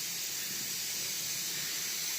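Papad frying in hot oil in a home kitchen, a steady loud sizzling hiss that holds without a break for a couple of seconds.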